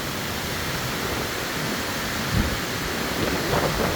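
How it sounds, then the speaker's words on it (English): Strong nighttime winds from Tropical Storm Debbie roar steadily on a back porch facing the water in Maryland, a dense, continuous rushing noise with a couple of stronger gusts and no voices. "Storm Debbie's winds."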